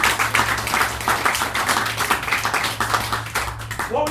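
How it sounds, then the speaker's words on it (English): An audience at a magic show claps for a volunteer, a brisk fairly close run of many hands clapping with a steady rhythm that holds throughout, a low hum beneath it. "let's have a round of applause to Danny"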